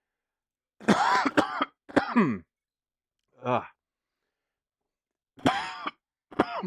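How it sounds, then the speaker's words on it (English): Several short coughs from a person sitting close to the mic, harsh and loud. They come in two clusters, a couple of seconds apart, and a brief groan sits between them. "I need to do something to stop the cough."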